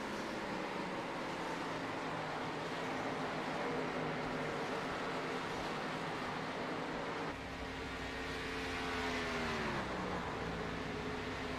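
Race cars lapping a track through turns 3 and 4 during a battle for the lead, producing a continuous distant engine drone with steady roar and a rising then falling pitch sweep near the end, no speech heard.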